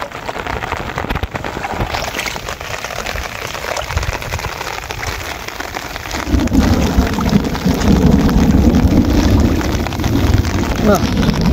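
Rain falls steadily in a continuous hiss over a wetland at dawn, growing louder and denser partway through, with no voices heard.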